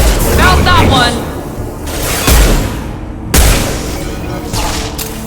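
Gunfire erupts in a Mass Effect 2 firefight: several loud, sharp bursts and booming impacts land close together, with voices shouting over the shooting.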